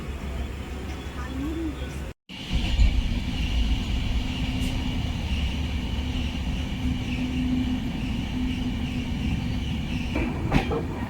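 Gour Express passenger train, Sealdah to Malda Town, running on rails at night after leaving Bolpur: steady loud rumble and rattle of wheels with a brief dropout near the start and a faint high squeal late on.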